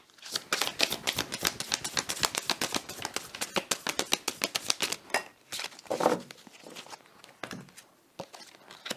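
Oracle cards are shuffled by hand in a quiet room, a fast run of soft papery flicks and riffles in bursts, with brief pauses and a few louder slaps near the end.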